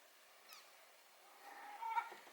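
A cat named Fudge gives a short, faint meow that rises and falls in a quiet room, with a little faint rustling around it.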